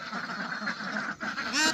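Ducks quack on a homestead in a barn, a close, busy chatter of quacks and honks ending in one louder, sharper call.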